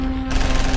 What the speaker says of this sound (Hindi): टेंट पर फायरिंग शुरू हो जाती है। टेंट से भी फायरिंग होने लगती है